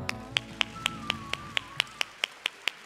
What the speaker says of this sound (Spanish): date un fuerte aplauso